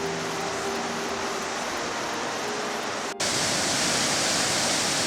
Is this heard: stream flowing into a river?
yes